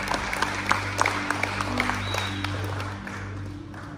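Crowd applause at a men's conference in Bryan, Texas, many hands clapping with distinct individual claps standing out, over a steady low hum, sustained and gently tapering near the end.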